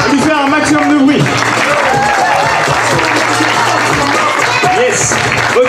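An audience at a harvest-festival freestyle football show applauds a trick in a continuous, steady burst, while an announcer talks loudly over the clapping throughout.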